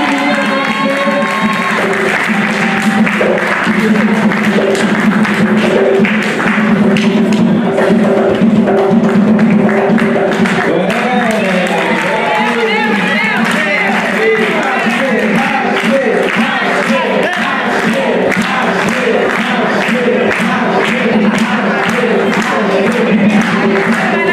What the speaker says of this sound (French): Ashley, applaudissements